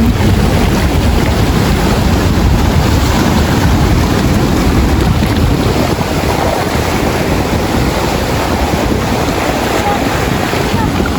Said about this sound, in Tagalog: Ngayon nga po pala malakas na po ang alon.